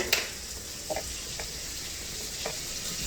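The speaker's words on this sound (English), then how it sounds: "show you some that I've got frying in there now" Chicken strips fry in hot oil in a cast iron skillet, giving a steady, bright sizzle and crackle with a few soft pops, heard close up with no talking.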